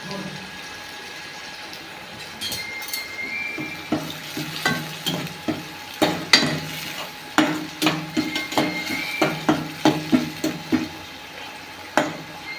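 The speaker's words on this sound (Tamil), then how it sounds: "கருவேப்பிலை போட்டு நம்ம வதக்கிக்கலாம்" Curry leaves crackle and sauté in a pan of oil for a fish curry, with close sizzling and rhythmic scraping stirs that grow busier and louder after the first few seconds.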